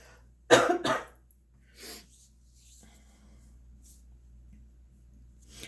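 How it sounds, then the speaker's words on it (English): A close, harsh double cough erupts, followed by a smaller throat-clearing rasp, then near silence with faint background hum. "that cough just reset my entire system"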